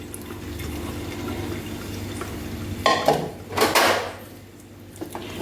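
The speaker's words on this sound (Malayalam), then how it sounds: "മാഗി എടുത്ത് നിങ്ങളുടെ വീട്ടിലിങ്ങനെ അരിപ്പയുണ്ടെങ്കിൽ അരിപ്പയിലോട്ട് ഇടുക" Boiled Maggi noodles poured into a strainer in a home kitchen, a quiet background followed by two short splashing, clattering bursts of water and metal near the end.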